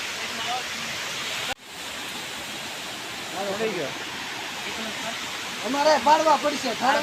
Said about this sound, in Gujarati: પાછળ કેવો મસ્ત ધોધ વહી રહ્યો છે